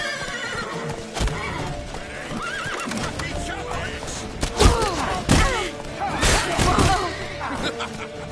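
Horses whinny repeatedly over clattering hoofbeats and thuds, with people shouting throughout, in the video game The Witcher 3: Wild Hunt.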